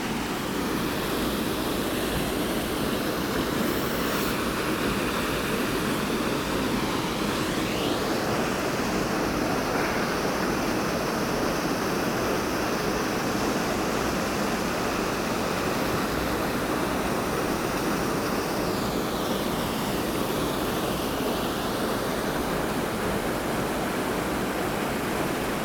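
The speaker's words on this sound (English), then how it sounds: "There's the waterfall," Waterfall at Sasquatch Falls below a cliff, a steady broadband roar of falling water with no gaps, loud and continuous with some wind buffeting the microphone.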